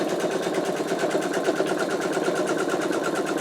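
An embroidery machine stitches the placement line for an in-the-hoop wallet, giving a steady, rapid mechanical whirr and needle chatter, continuous and close with no talking.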